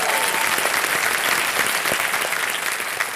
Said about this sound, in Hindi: जोरदार तालियां, स्वागत की।